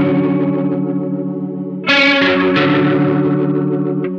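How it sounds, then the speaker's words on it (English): Clean electric guitar runs through a Strymon Lex rotary pedal, giving sustained chords a swirling, warbling speaker-spin shimmer, with a brighter strum about halfway through; loud, no voices. "the verse part, which is utilizing a rotary effect"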